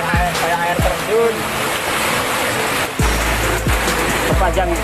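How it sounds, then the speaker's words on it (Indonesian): Flash floodwater carrying large rocks pours through a breached embankment in Gunung Kidul with a loud, continuous roar and rumble. A man calls out over the torrent. "Air meluap loh, ini kilo."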